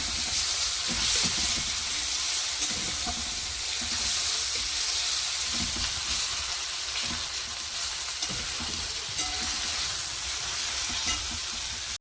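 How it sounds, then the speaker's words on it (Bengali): Ginger and garlic fry with onion in a pan, a steady, close sizzle broken by the soft scrape and clatter of stirring, continuous throughout with no talking. "আদা রসুনটা একটু ভেজে নেব।"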